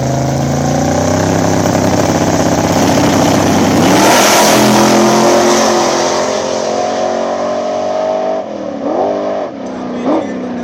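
Loud small-tire outlaw drag racing engines, including a black Chevy Nova, rev and roar together at Mooresville, holding a steady high-pitched drone before sputtering through a few sharp throttle blips at the end.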